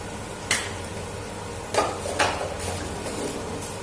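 Onions being stirred while frying in a pan, with a few distinct scraping knocks of a spatula over a soft, steady sizzle, heard close with no talking.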